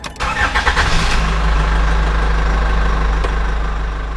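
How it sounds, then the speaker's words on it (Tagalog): A car engine cranks briefly and catches, then settles into a loud, steady idle that continues alone to the end. "In-start ko na agad yung sasakyan."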